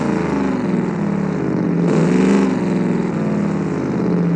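A simulated car engine in the driving game BeamNG Drive, a 1990s track supercar, droning loud and steady with a rising, buzzing harmonic whine and a brief swell midway, with no talk.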